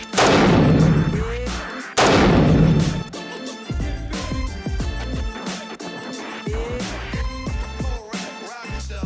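An AK47 rifle fired into a standard car battery, two sharp, very loud gunshots with long booming reverberation, followed by a ringing, echoing tail with scattered clanks and rattles, no talking.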